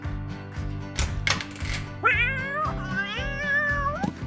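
Kitten meowing in a girls' doll-and-animal play scene with a toy guitar, several rising, wavering meows over a steady musical background.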